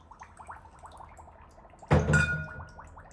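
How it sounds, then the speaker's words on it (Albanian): Soft bubbling trickles, then a sudden splash and rush of about a litre of water pouring into a cooking pot for baklava syrup, loud at first and tapering off. "Ja shtojmë 1 litër e 100 ml me ujë"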